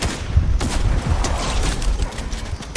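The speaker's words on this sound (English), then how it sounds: "I shot him like twice with my SMG." Rapid SMG gunfire in Fortnite, a crackling burst of shots stacked with other firing over nearly three seconds, loud and continuous with no talk.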